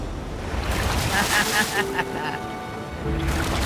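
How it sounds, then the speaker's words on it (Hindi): A big ocean wave surging and crashing on rocks along the coast of Iceland, a loud rushing roar that swells in the middle under heavy wind noise, with a voice talking over it. "वो लहरें काफी बड़ी लग रही हैं, और वो हमारी तरफ ही आ रही हैं। ओके, ये आई बड़ी लहर।"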